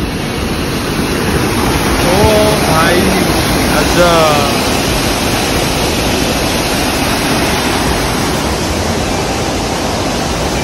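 A waterfall near a road to Darjeeling roars steadily in a loud, broad rush of water, close by, with a brief shout heard over it.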